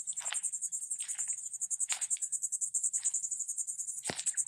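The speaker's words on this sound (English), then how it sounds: "Hear those cicadas." Cicadas on an island shore after a hurricane give a steady high, pulsing buzz throughout, with louder rasping bursts about once a second. They sound close and continuous.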